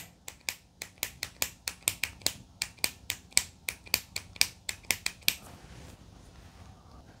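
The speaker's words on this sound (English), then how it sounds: "we're going to have to prime this so we get some serum out, and it can take up to 20 pushes" Clicking priming pump of a Colgate Optic White whitening pen, pushed about twenty times in a steady, fairly quick rhythm of sharp close clicks, then stopping, with no talk.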